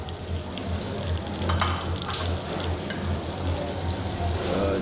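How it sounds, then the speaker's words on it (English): Butter melting in a hot pan gives a steady, close frying sizzle with a low hum beneath, continuous and fairly even throughout. "We first add butter on the pan."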